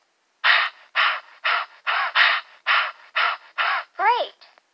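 Seagulls call in a rapid series of about ten harsh, squawking cries in the Bailey's Book House educational video game, loud and close, the last call rising and falling before a short final note.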